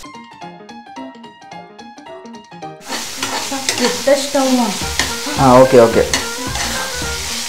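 Ginger garlic paste and turmeric fry for a chicken curry: loud, close sizzling and stirring break in after a short melodic intro, with scraping stir strokes and a brief voice.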